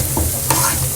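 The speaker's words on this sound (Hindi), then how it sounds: "बघार डलता है इसके अंदर" A tempering of spices (baghar) poured into a pot of chana dal gosht, hot oil hissing in one steady, close sizzle with a brief louder burst midway.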